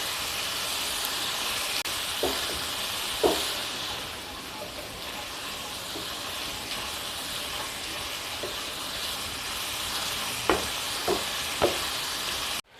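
Vegetables lightly fried in a pan for street-style fried rice, a steady broad sizzle throughout with a few scattered clinks and scrapes of stirring, close and continuous.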